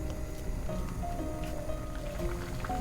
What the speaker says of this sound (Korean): 끓는 물에 바로 넣어서 3분간 삶아줄게요